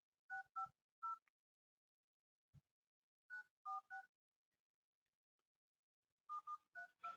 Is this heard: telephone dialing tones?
yes